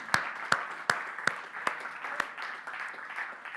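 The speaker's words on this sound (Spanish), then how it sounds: "Un aplauso fuerte al Señor." Scattered clapping from a church congregation during a Spanish-language sermon, a handful of sharp, fairly loud claps at an uneven pace, fading into a soft, continuous patter of hands.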